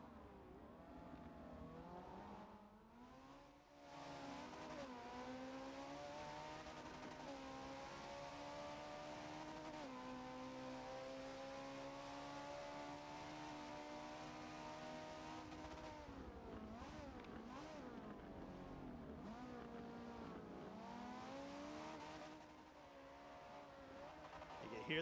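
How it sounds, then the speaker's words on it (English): Race cars at full throttle in the Forza game, a ForzaRC esports team competition, with steady high-pitched engine whine and gear-shift pitch sweeps running continuously, broken by a brief lift near the end, under faint commentary. "Hear the sounds of these 3 amazing cars."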